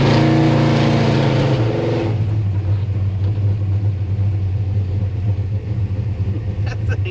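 A Ford F100 race truck with a 429 Hemi engine drives and revs, a loud rumbling engine roar that shifts pitch as the throttle changes, with a person speaking over it.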